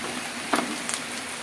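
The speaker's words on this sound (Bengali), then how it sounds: "ঝুম বৃষ্টি ছেড়ে দিল।" A steady, even hiss of heavy rain pours down outside a home kitchen, filling the background with a constant wash and a couple of faint clicks.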